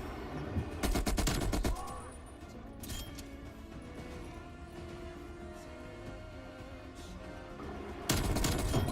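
Bursts of automatic gunfire from Call of Duty gameplay, loud rapid volleys at the start and again near the end, with quieter battle ambience between them.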